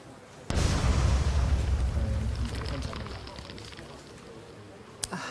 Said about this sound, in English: There was also this video of him testing one of his early bombs.